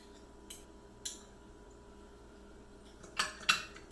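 A fork mixes vegetables and ketchup in a dish, giving a few faint, scattered metallic clinks and taps against a quiet background.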